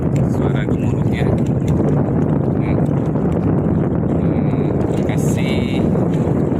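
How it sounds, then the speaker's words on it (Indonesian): Strong wind and rumbling waves batter a fishing harbor, with loud, dense wind buffeting the microphone throughout and a few faint higher sounds in the background. "kondisi anginnya sangat kencang sekali. Bisa dilihat gelombangnya, suara gemuruhnya."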